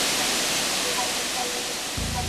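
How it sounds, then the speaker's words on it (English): A huge 32-metre-high waterfall roars as a loud, steady broadband rush of falling water, close and continuous, with no voices over it. "This is a huge 32 metre high waterfall."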